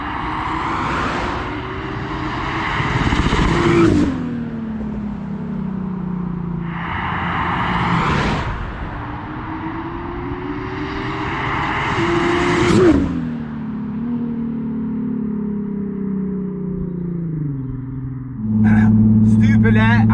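Turbocharged VR6 in a VW MK5 R32 pulling hard on a drag run, engine note climbing through several gears with sharp shift breaks, loud and close from inside the car.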